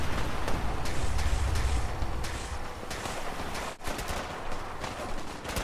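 Gunfire in a battle in the Fallout 4 video game, a dense, continuous stream of overlapping shots and rattling bursts at moderate loudness, with a brief dip partway through.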